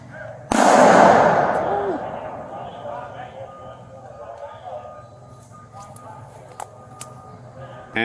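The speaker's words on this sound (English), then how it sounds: "This sounds like a shot from a gun." A single gunshot cracks sharply and loudly outdoors, then its echo rolls away over several seconds into a quieter background where faint distant sounds remain.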